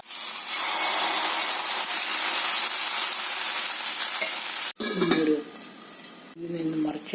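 Rava dosa batter sizzles loudly and steadily in a hot pan, a broad hissing fry that drops off abruptly before quieter clinks and scraping of a pan and utensil follow.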